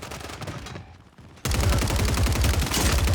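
Gunfire in a video game with shotgun blasts: a quieter stretch of shots, then from about halfway a loud, dense burst of repeated firing that continues to the end.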